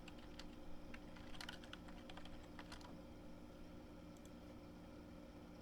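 Someone types on a computer keyboard in a quiet room while looking up an article on Google Scholar: soft, close clicks come in quick irregular bursts, then thin out to a few isolated keystrokes.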